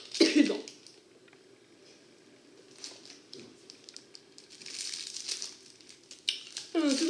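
A sharp cough bursts out at the start, followed by rustling and crinkling, then another throaty cough near the end.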